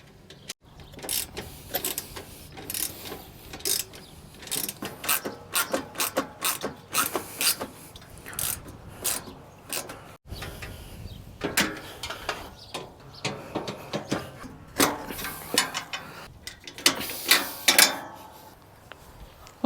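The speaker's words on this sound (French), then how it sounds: "moi j'ai pris une petite clé à cliquer parce que ça va plus vite" Ratchet wrench tightening bolts and nuts on a solar panel mount, with repeated clicking runs in irregular bursts, close and fairly quiet, no speech.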